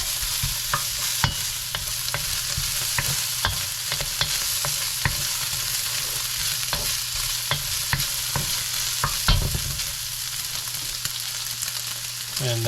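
Bacon frying in a pan, a steady close sizzle running the whole time with scattered crackles and pops, no talking.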